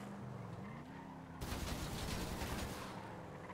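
Gunfire in Grand Theft Auto bursts in suddenly partway through, a dense crackling volley that holds steady at a low, somewhat distant level over an engine-like drone.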